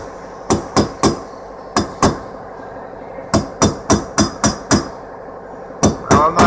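Repeated metal hammer blows drive out a front wheel bearing race on a 1966 Chevrolet Impala, about fifteen sharp, ringing strikes in quick bursts of two to five with short pauses, close and loud, with no talking.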